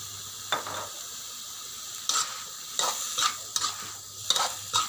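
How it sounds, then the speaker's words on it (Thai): Mushrooms being stir-fried in a pan with oyster sauce make a steady sizzle, broken by several sharp scrapes and clinks of a spatula against the pan, close by and moderately loud, with no talking. "คั่วต่อครับ คั่วภาษาเมืองนะครับ"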